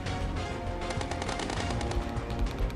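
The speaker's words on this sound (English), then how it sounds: "Stealth firing AA guns?" Anti-aircraft guns on a heavy destroyer fire in rapid sustained bursts in a naval combat game, a dense, loud chatter of shots running without pause.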